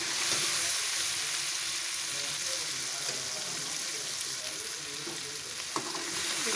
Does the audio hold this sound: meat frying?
yes